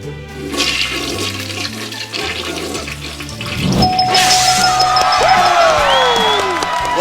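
A toilet flushes away Charmin toilet paper, a loud close rushing swirl of water that swells and keeps draining, with a cheering crowd and whoops mixed in.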